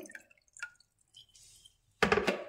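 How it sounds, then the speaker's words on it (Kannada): Hot water is poured into a glass, with a few faint drips and small clinks first and then a short, louder splashing pour near the end, heard close in a quiet room. "ಮೊದಲು ಒಂದು ಗ್ಲಾಸ್, ಅದಕ್ಕೆ ಬಿಸಿ ನೀರು ಹಾಕ್ಕೊಳ್ಳಿ."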